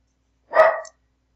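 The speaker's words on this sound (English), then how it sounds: "my dog is acting crazy" A single short, close dog bark rings out alone in a quiet room.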